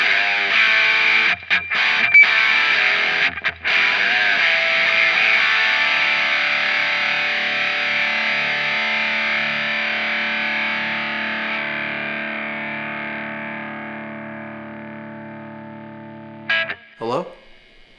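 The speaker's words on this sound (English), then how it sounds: "Not telephone. You don't want it to sound like this." Electric guitar played through a Kemper amp with a narrow telephone-style EQ, a thin distorted sustained chord that slowly fades, with brief choppy bursts early on and at the end.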